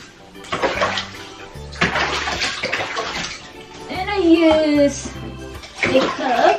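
Cold water poured over a domestic cat during a bath, splashing and running in several pours, with a person talking over the sound throughout.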